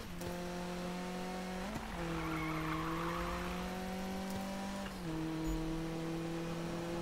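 Car engine in the Need for Speed racing game, a Mazda Miata build, holding a steady tone with shifts near two and five seconds while tires skid and squeal through the middle, loud and continuous with no talk.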